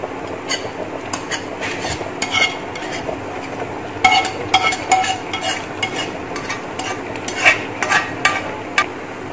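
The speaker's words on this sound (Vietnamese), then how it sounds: "Măng sau khi mình xào xong thì mình sẽ đổ vào luôn nha, cho mọi thứ nó hòa quyện với nhau" Stir-fried bamboo shoots mixed into a pot of stewing pork hock, with repeated clinks and scrapes of a utensil against the pot over a soft, continuous sizzle, close and fairly busy.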